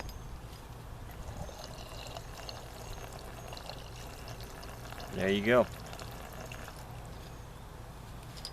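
Water pouring from the one-inch hose valve of a Camelbak Squadbak 20-liter water tanker, a steady quiet trickle under a man's brief spoken words.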